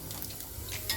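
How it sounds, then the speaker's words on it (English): Hotdogs sizzle steadily in a frying pan at home, a close, continuous crackle with faint stirring for about a second. "It is burning up. It's sizzling, right?"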